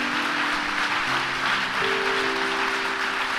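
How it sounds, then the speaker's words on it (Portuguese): Congregation applauding in a Baptist church during a Sunday morning service, a steady broad patter of many hands with sustained organ or keyboard tones underneath. "Pode aplaudir Jesus, pelo menos para acordar uns irmãos aí"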